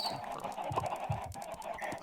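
Minecraft chickens, short soft clucks over a dense background of game sound, close and brief, with no talking.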